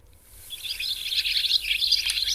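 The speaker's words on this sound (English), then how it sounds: "you can see it's showing this is a barn swallow" Barn swallow song: a continuous run of rapid high chirps and twittering that starts softly and grows louder and steadier, heard alone without voices.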